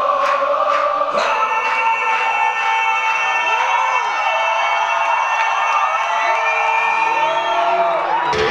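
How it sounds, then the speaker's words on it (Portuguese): A cinema audience cheers and whoops loudly during a concert film screening, with sustained shouts and yelling voices close by that continue throughout. "não dá pra ver, mas o cinema tá aplaudindo."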